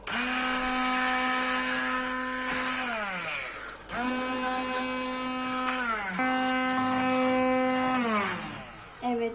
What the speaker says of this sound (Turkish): Şimdi mercimeğim kaynamış. Blender'dan geçireceğim.